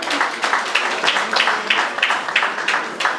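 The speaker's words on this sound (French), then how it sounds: "On applaudit très fort pour le chef Léonard." Guests at an apartment inauguration in Kasavubu clap for chef Léonard, brisk close-up applause with distinct rhythmic hand claps repeating steadily and loudly.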